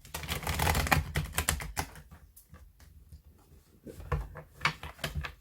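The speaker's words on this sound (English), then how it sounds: "I'm just going to shuffle a bit." Tarot cards are shuffled by hand in quick riffling bursts of papery clicks and patter. The rattling is dense at first, eases off in the middle and then picks up again in shorter flurries. The sound is close and fairly quiet, and nobody talks.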